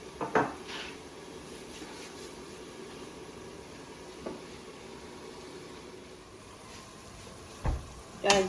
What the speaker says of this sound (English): I'm just going to add this onion on with the lamb just to give it a bit of sauce.